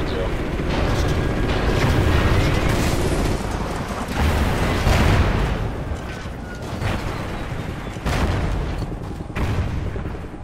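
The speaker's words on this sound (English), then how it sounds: "We're still taking enemy AA fire from behind the smokestacks." Enemy anti-aircraft fire in Call of Duty Ghosts, a continuous heavy rumble of booms and blasts with repeated thudding bursts, loud and dense throughout, with radio chatter speaking over it.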